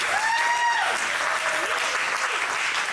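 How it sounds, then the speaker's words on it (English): Applause from a stand-up comedy audience, a steady dense wash of clapping that fills the room for the full three seconds, with a few whoops rising over it. "Give yourselves a round of applause"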